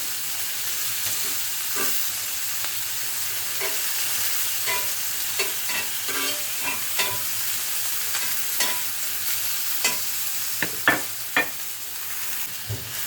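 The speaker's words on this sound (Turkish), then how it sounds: "Biberlerimizi sucuklarımızın, salamlarımızın yağında şöyle kızarttık" Steady sizzling of peppers frying in fat rendered from sucuk sausage and salami, with occasional crackles and pops growing sharper toward the end; no talking.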